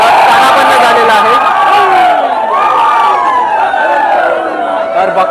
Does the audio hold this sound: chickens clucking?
no